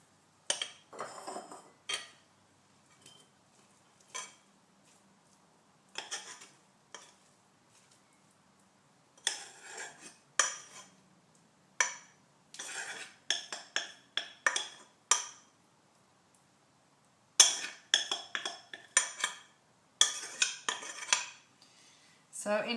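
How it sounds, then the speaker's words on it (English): Cooked quinoa is tipped from a pot into a bowl, with bursts of metal spoon-on-pot scraping and clinking separated by quiet gaps, close and fairly crisp, with no talking. "I'm actually going to tip it into a bowl."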